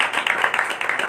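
Brief burst of crowd applause at a whole-night church prayer service, many hands clapping in a dense, crackling wash that swells and dips over about a second.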